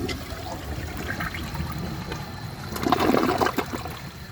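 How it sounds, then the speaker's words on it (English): A 2012 Glacier Bay all-in-one toilet flushes, a steady watery rush that swells louder near the end as the bowl drains, heard alone and close. "So I'm gonna give it another flush and clear the rest of this out"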